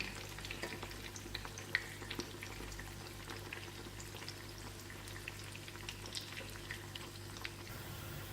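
Bride's finger cake fries gently in a pan, a quiet close sizzle with scattered small pops and crackles running steadily throughout, with no speech.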